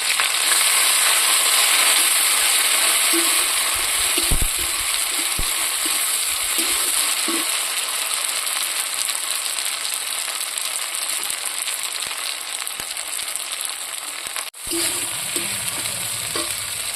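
Ginger-garlic paste goes into onions frying red in a pan for banana flower chicken, giving a loud, steady sizzle that runs throughout with occasional soft stirring clinks.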